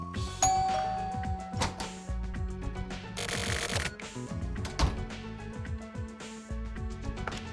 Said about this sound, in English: I'm gonna ring his doorbell again.